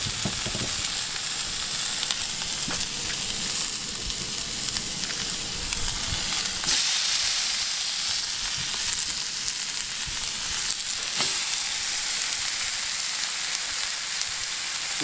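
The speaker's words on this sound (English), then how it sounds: "Let's get these ribeyes thrown on. Butter beans are done, pretty much simmering on the stove top. And let's get some sear." Ribeye steaks sear over high heat, producing a loud, constant frying sizzle and crackling hiss up close, with a few sharp clicks and pops scattered across it and no one speaking.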